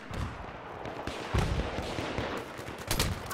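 Gunfire in the video game Battlefield 3, a dense stretch of rapid shots and bursts layered with heavier booms, some close and some farther off, continuing without pause.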